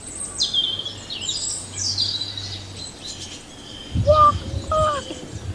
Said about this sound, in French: Vous pouvez entendre les petits oiseaux,